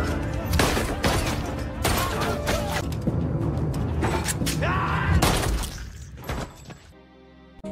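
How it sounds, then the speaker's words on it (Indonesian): Rapid bursts of gunfire ring out in a film shootout inside a locked restaurant, loud cracking volleys with shattering glass and thuds, crowded closely for several seconds before cutting off. "Dia menembak mati mereka."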